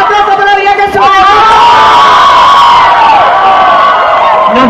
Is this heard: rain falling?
no